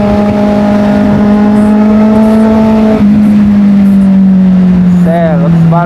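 A 2014 Kawasaki Z800 motorcycle engine runs loud and close in a steady, buzzing drone that dips slightly in pitch partway through, with a brief rising whine near the end.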